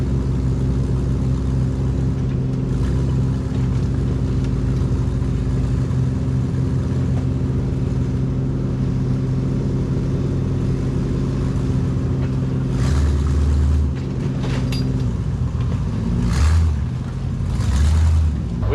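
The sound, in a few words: off-road buggies driving and revving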